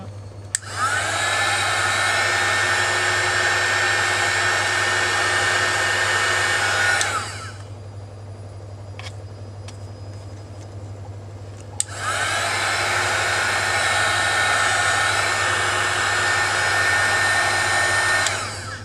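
Hair dryer blowing on coffee filter flowers sprayed with acrylic paint, a loud steady whooshing roar close by, running for about seven seconds, pausing with a faint hum and clicks, then running again.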